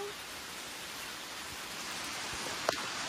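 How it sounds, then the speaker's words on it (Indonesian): Rain is starting to fall on a hike up a 2,211-metre mountain, making a faint, steady hiss of drops with a single soft knock near the end and no talking. "Ini mulai hujan lagi, langsung pakai jas."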